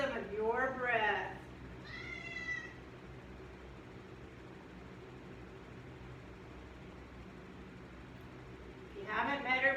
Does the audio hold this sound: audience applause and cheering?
no